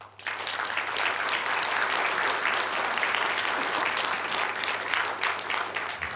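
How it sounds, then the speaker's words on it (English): A seminar audience gives students a warm round of applause, steady dense clapping from many hands that holds evenly for several seconds, moderately distant, with a faint hum underneath. "So please, a warm applause for these students."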